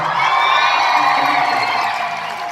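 A concert crowd in Peterborough cheers and applauds loudly and steadily after a performer's call, with whoops rising over dense clapping that fades slightly toward the end.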